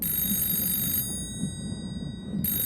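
An alarm bell on the Titanic rung by the ship's lookout, a rapid, continuous metallic ringing that briefly drops out mid-clip before resuming, loud and close.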